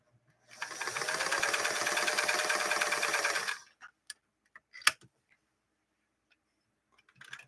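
A Singer 328K sewing machine running a straight stitch on cotton, a steady fast mechanical whir and rhythmic needle clatter for about three seconds, then stopping, followed by a few scattered clicks and handling knocks.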